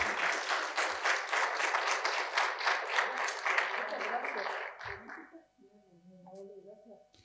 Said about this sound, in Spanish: Un aplauso también para Jaime